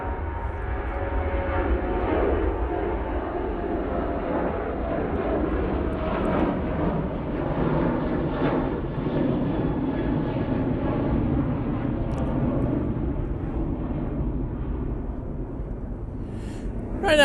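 A passenger airplane departs from Manchester Airport bound for Rabat, its jet engines roaring loud and steady for the whole stretch, a broad continuous thrust noise with no talk over it.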